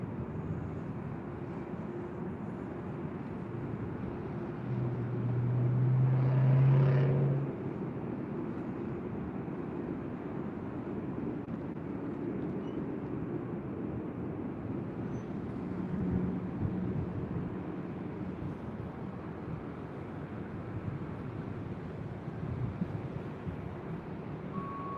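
A Lufthansa heavy jet starts its takeoff roll on runway 24 left at LAX, heard from a distance as a low, steady engine rumble that swells briefly and then holds under faint background noise.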